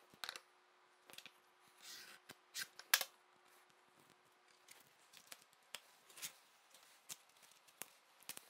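Masking tape being cut neatly while taping off an MDF wall cabinet for painting, quiet crisp snips and tape rustles scattered irregularly, close and faint with no talking.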